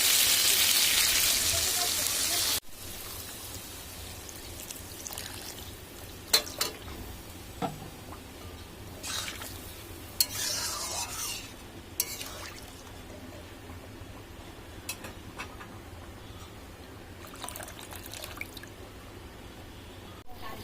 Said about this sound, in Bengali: আমার মশলাটা কষানো হয়ে গেছে এবার আমি দিয়ে দেবো এর মধ্যে জল